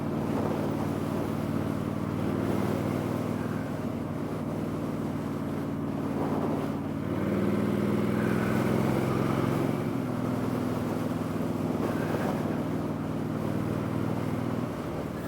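A Honda motorcycle cruises along the road with a steady engine drone under heavy wind buffeting on the microphone, and the level holds fairly even throughout.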